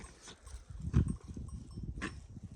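A Haymana Karası sheep flock out grazing at night, giving faint, scattered shuffling and soft animal noises at a low level, with a couple of brief brighter bursts and no talking.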